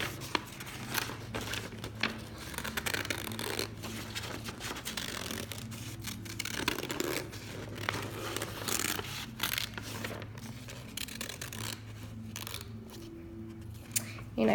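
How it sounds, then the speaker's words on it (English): Scissors cut through paper for a portrait art project, a run of soft, close snips and rustles as the paper is slowly turned, heard under quiet background noise with no talking. "making sure I'm turning my paper and my scissors as I cut to make a nice clean cut"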